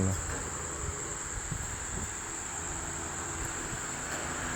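Dense swarm of mosquitoes around a factory fan in a house, heard as a steady, continuous insect whine and buzz over a broadband fan rush, loud and unbroken throughout.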